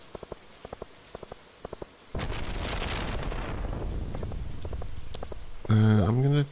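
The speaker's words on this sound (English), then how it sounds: "It's a rainy day." Rain falls in the Stardew Valley video game as a steady, even hiss, preceded by soft, rhythmic clicks and ending with a brief, louder tonal game chime.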